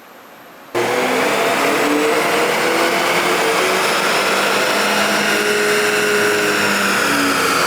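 A tuned car engine revs hard on a chassis dyno pull on its first map, starting abruptly after a short quiet lead-in and holding a loud, steadily climbing roar to the end.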